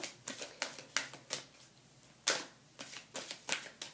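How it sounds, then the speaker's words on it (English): A deck of cards being shuffled in a steady series of quick riffling bursts, soft and close, with a brief pause midway. "I'm just going to shuffle my cards"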